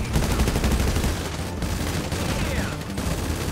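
Dense bursts of automatic gunfire fill a Grand Theft Auto heist mission in a video game, rapid overlapping shots rattling continuously and fairly loud throughout.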